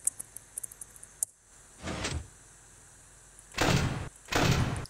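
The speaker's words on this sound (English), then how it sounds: "Shut both my doors" Heavy security doors in Five Nights at Freddy's slide shut in a few separate whooshing mechanical bursts, each a second or so long. Light clicks come first, with quiet gaps between the closures.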